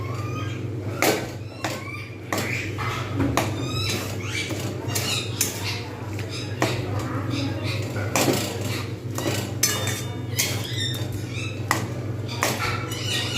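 Rice flour being stirred in a pan over low heat for patishapta pitha, repeated scraping and clinking of a utensil against the pan in an irregular rhythm, close and fairly loud.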